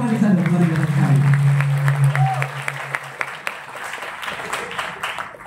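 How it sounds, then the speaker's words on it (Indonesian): An audience at a public speaking event breaks into applause, a dense, steady round of clapping that starts under a host's voice and continues after he stops. "terima kasih tepuk tangan untuk Anissa, luar biasa sekali."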